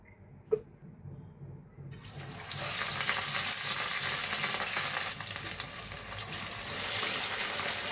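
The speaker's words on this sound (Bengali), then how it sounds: "এখন আমি এটা তেলে ভাজা ভাজা করব এখন আমি মাছটা ভাজা করব" Katla fish hits hot oil after a sharp clack, and a sudden loud hissing sizzle bursts up and holds steady and close, with only slight dips in level.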